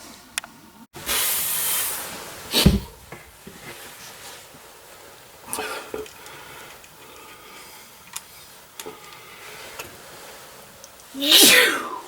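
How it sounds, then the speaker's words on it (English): One sharp sneeze bursts out near the start, followed by quieter rustling and hissing noises, with another loud burst near the end. "Whoa, got the sneezes."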